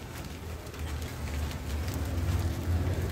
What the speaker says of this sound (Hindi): बारिश काफी देखिए तेज हो चुकी है